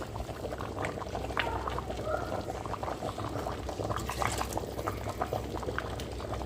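Water pouring steadily into a cooking pot of odiyal flour for Jaffna-style odiyal kool, a continuous splashing gush with bubbling liquid, close by and fairly loud throughout.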